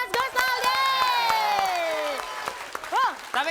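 A live TV comedy show studio audience on Funtastik claps and cheers, with a steady wash of applause and whoops running under a host's loud, sweeping voice throughout.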